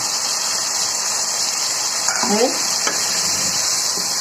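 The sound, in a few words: bay leaves and green chillies sizzling in hot oil for dal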